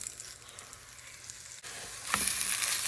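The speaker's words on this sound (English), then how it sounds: "we're going to use this hot pan to brown our cube steaks" Cube steaks dropped into a hot pan to brown, a quiet moment giving way to a sudden loud, steady sizzle and frying hiss that continues close up, with no talking.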